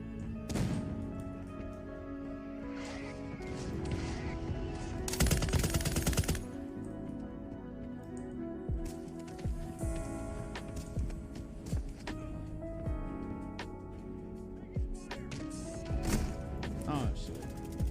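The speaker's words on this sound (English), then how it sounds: "Friendly mortar strike inbound." A friendly mortar strike lands in a first-person shooter video game, rolling into a dense barrage of loud blasts and rapid gunfire that continues throughout, with game voice lines and a player talking over the din.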